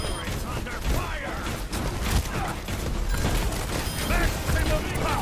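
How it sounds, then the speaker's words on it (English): Bomb explosions and turret fire in Overwatch's Junkenstein's Revenge Halloween event make a loud, dense, continuous barrage of blasts and rapid gunfire with no letup. "Dr. Junkenstein lobbed his bombs at the castle."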